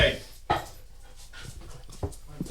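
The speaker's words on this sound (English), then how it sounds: "Get them dogs out of here." Dogs scuffle and pant indoors, with quick breathing, thumps and scrabbling bursts while people talk over them.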